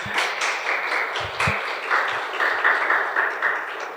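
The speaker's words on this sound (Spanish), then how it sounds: "Aplauso, por favor." Members of a congregation at a Spanish-language family church service applaud with moderate, continuous clapping that rises and falls, heard fairly close.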